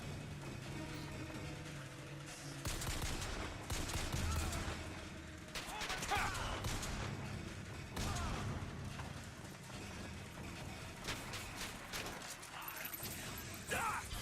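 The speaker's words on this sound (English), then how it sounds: "Who's shooting me?" Gunfire in a video game, with repeated bursts of shots and rattling volleys running throughout under a person talking.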